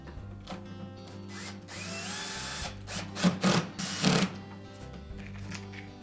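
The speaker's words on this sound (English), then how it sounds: "go ahead and put the rest of the screws in" A power drill drives screws into a Whirlpool dishwasher door latch, whirring in several short, close bursts with pauses between, against a steady background hum.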